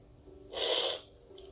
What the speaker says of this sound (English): I'm sorry for the tears and the sniffing